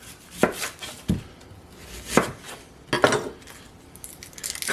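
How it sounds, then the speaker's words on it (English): A knife chops through a regular yellow onion on a cutting board, trimming off the ends in about five sharp, separate cuts with brief pauses between them, close and clear with no talking. "Just a regular yellow onion. I cut the ends off."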